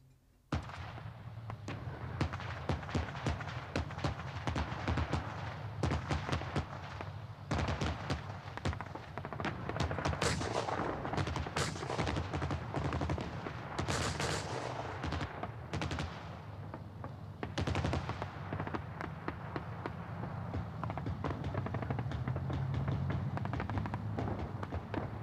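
Rapid bursts of gunfire with training ammunition crack and rattle during a military combat exercise with a BMP and attacking tanks, in irregular clusters of sharp reports, some near and loud, others more distant, with rumbling engines underneath.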